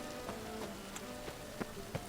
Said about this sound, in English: stood out in the rain